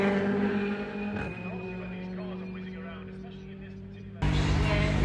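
A Volkswagen Passat CC engine runs with a steady harmonic drone at the Smiles for Miles 2022 car show at Croft Circuit, swelling louder near the end while someone talks over it.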